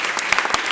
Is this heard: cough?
no